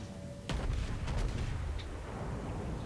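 Battleship guns fire in the World of Warships naval game as the USS Texas BB-35: one heavy boom lands sharply and then rumbles on under dense, continuous low battle noise.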